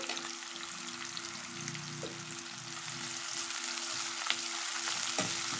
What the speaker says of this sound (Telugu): ఈ ఎరగడ్లు కొంచెం ఫ్రై అవ్వాలి